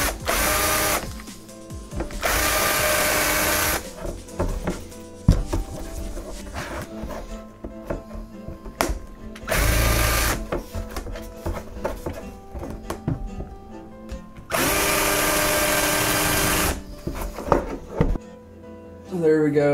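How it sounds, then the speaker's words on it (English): Several short bursts of a power drill spinning up and whining as it redrills countersink holes in a guitar fretboard, separated by quieter stretches of handling and clicks. "Just redrill those countersink holes real quick."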